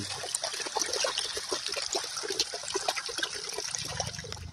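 Water rushes steadily into a burrow hole in a field: a continuous, fairly loud trickling and gushing wash with no pauses and no voices.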